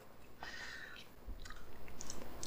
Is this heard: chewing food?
yes